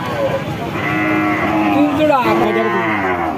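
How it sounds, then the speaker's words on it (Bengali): A deshal-breed dairy cow with calf moos loudly and close by at the Chhutipur cattle market in Jessore, a deep, sustained call with a second lowing sound following, against a noisy background. "দেশাল জাতের দুধের গাবি"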